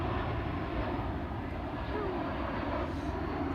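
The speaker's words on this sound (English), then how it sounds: "We got a plane going over here for just a sec." An airplane passes overhead with a broad, steady engine roar that holds at fairly even loudness throughout, faintly mixed with a voice.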